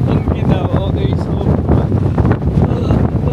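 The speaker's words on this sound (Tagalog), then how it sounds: "Ang lakas ng hangin." Strong wind at Lake Como near Bellagio buffets the microphone with loud, continuous low rumbling gusts, steady for the whole stretch with no clear talk.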